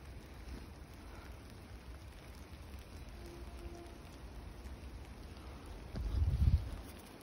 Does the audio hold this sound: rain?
yes